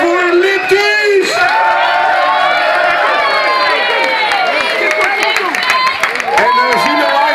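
At a live concert, a crowd cheers, whoops and claps for the band, a dense, steady wall of noise with voices shouting throughout.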